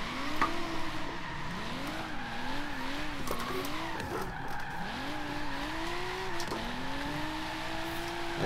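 A Nissan Skyline R34 drift build slides through corners in the racing game Forza Horizon 3, its engine note rising and falling in sweeping arcs while the tires squeal almost continuously, loud and close.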